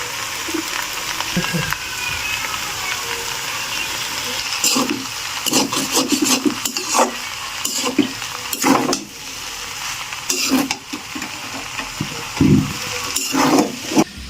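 Chicken pasta with soy sauce being stirred in a pan, a steady sizzling bed under repeated scraping and rubbing strokes of a utensil, close and moderately loud throughout.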